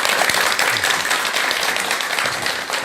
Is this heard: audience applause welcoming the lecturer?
yes